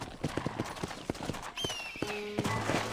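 Hooves clip-clop in a steady rhythm from a horse in the Western game Red Dead Redemption, fairly close and clear, joined by a brief whinny-like call midway and a low musical drone.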